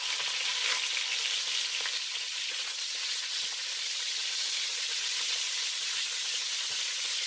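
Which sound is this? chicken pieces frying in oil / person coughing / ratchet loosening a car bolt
chicken pieces frying in oil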